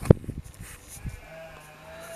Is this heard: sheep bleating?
yes